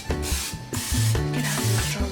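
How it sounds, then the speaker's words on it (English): Cooking spray hissing onto a cake pan in several short bursts, close and fairly loud, with brief gaps between sprays and no talk. "I'm gonna spray the pan."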